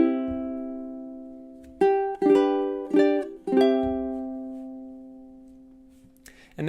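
Ukulele playing the end of a song's chorus: a held chord, then a handful of crisp strums in quick succession, settling into a final chord that rings out and decays, close and unaccompanied.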